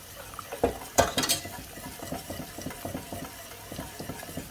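Milk being stirred into a thickening sauce in a pan for zucchini, tuna and mozzarella lasagna, with a utensil scraping and tapping in a close, irregular rhythm and a few louder clinks early on.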